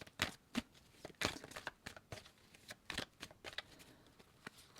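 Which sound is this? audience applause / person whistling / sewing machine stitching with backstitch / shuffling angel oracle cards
shuffling angel oracle cards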